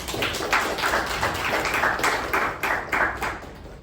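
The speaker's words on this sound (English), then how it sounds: "A round of applause for Secretary for doing that." Applause for the secretary at a Toastmasters club meeting, a steady patter of hand claps from a small group that lasts a few seconds and then tapers off, with little talk.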